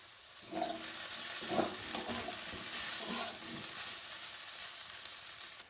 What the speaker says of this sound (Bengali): ব্রোকলিগুলো ভাজা হয়ে গেছে, এর সঙ্গে একটু জিরে গুঁড়ো আর লঙ্কা গুঁড়ো দিয়ে ভালো করে একটু ভেজে নেব